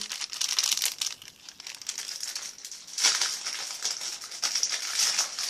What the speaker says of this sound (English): It's rustling.